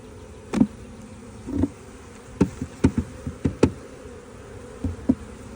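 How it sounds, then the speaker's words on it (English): Bees buzzing in short bursts around a new hive with freshly drawn comb as individual insects fly close past, a steady low hum of many more underneath. "Want to make those bees be in the hive."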